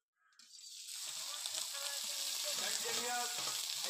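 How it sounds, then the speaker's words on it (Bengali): Shrimp frying in hot oil with salt and turmeric, a steady bright sizzle that swells in after a quiet start and holds close and loud, with faint stirring clatter underneath. "আর আমি চিংড়ি মাছগুলো ভেজে নেব লবণ আর হলুদ দিয়ে"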